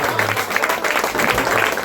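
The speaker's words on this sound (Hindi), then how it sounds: "जोरदार ताली बजाएंगे" Audience applause breaks out at a Hindi-Urdu poetry recital (mushaira), a dense, loud burst of many hands clapping that runs steadily through the short stretch.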